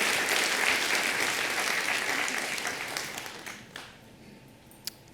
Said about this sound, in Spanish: Vamos a aplaudir todos juntos en el nombre del Señor.